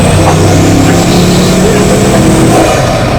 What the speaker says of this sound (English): Did you hear that switch from 2 turbos to 4 turbos?